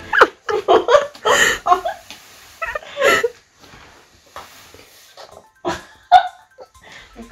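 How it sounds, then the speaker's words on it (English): A dog barks in short, loud, irregular bursts close by, with whimpering and yelping sounds between the barks in a home. "Crazy fucking dog."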